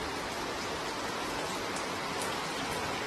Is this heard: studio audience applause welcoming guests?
no